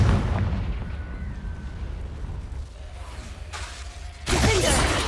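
Blasting-spell explosions from the Hogwarts Legacy video game are heard as repeated booming bursts with a rumbling low end, then a louder blast near the end.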